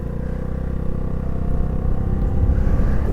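A 2022 Honda Navi motorcycle pulls away, its small engine giving a steady close low rumble that grows slightly louder as it rides off, with no talking.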